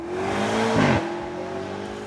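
A 2018 BMW M5 launching hard from traffic lights, its engine note rising in pitch with a surge of revs and a brief louder burst, heard closely with no voices.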